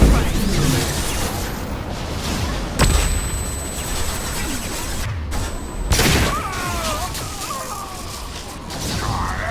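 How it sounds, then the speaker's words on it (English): A flashbang grenade goes off in Mass Effect 2 with a sharp crack that leaves a high ringing tone, followed by a second burst amid ongoing battle noise and shouted combat voices. "Flashbang!"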